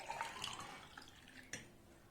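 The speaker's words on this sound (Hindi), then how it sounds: "अब हम इस पानी को वापस इस गिलास में डाल लेंगे" Curry leaf water being poured from a pan back into a glass, a soft liquid trickle with a small splash near the end, close and quiet.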